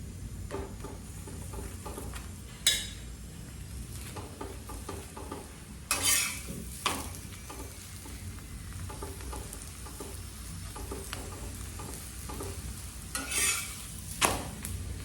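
Lachha paratha cooks in ghee on a flat pan with a soft, low sizzle, broken by a few sharp scrapes and clatters as it is turned and spread.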